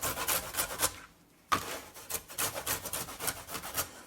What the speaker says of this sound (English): I'm just going to put this on the grater